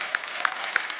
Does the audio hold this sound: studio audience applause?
yes